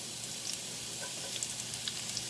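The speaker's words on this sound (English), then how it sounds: "oh, look at that, listen to that sizzle" Onions for fajitas sizzle in a frying pan, a soft steady hiss with scattered small pops and crackles, moderately quiet and without talk.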